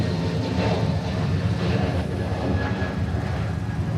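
An Asiana Airbus A380 departing Honolulu airport, its engines a loud, steady roar that rumbles continuously without pause, heard from a fair distance with no talking.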